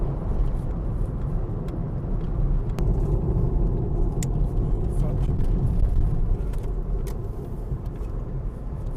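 A VW VR6 fitted with Koni dampers drives along State Highway 1 in New Zealand, heard from inside as a steady, low engine and road rumble that holds throughout, with faint higher ticks above it.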